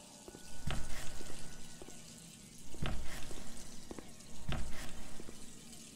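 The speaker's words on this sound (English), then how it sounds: "What are these faucets on?" Running water from bathroom faucets in a horror video game comes in three rushing bursts, each a couple of seconds long, with short quiet gaps between them.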